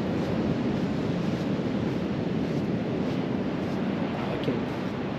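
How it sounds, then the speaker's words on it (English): Ocean surf at Sandbridge Beach near Virginia Beach, with large waves after a storm surge, makes a continuous loud roar of breaking water, likely mixed with wind buffeting the microphone. "Holy crap, look at those waves."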